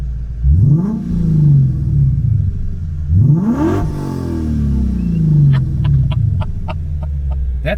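A Lexus IS F V8 revs hard in two sharp surging sweeps that rise and fall, then settles into a loud, deep idle burble with faint clicks near the end.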